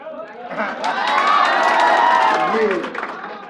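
A classroom of students claps and cheers loudly during a lecture, voices rising into a sustained shout that swells in the middle and tapers off.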